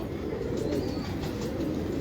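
Pigeons in a loft where fancy breeds are kept, with soft cooing and bird calls over a steady low background murmur, fairly faint and continuous.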